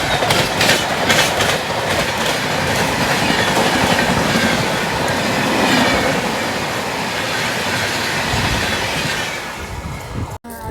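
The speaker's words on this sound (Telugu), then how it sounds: "వ్యాప్ 7th ప్రశాంతి ఎక్స్ప్రెస్ మన ఓవర్టేక్ చేసుకుంటా క్రాస్ చేసుకుంటా వెళ్తారు." The Bhubaneswar–Bangalore Prashanti Express rushes past nearby with a loud, continuous roar and clickety-clack wheel rattle for about ten seconds before it cuts off abruptly at the end.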